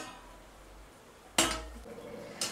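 A metal lid set down over a pan of mushrooms cooking for a dhaba-style mushroom masala gives a loud close clank with a short ringing tail, then a second lighter clink about a second later over quiet kitchen background.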